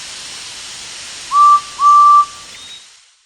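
A steam engine whistle in a Thomas & Friends story app gives two clear, steady toots, a short one then a longer one, over a soft hiss of steam that fades out.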